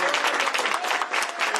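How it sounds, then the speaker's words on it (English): Audience clapping at a governor's bill signing, a dense burst of steady applause from a crowd indoors, close and continuous with no talk over it. "Please give him a warm round of applause."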